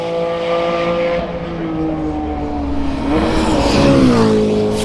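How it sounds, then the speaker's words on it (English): A Porsche Cayman race car runs on the Donington Park circuit during a time attack event, its engine note holding steady and then climbing and shifting as it nears, loud and continuous throughout. "And then you've got Dyson in the Porsche Cayman."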